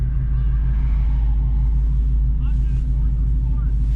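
A 2018 Ford Mustang with a Corsa Sport exhaust rumbling at idle, a deep steady droning growl close by, with voices talking over it.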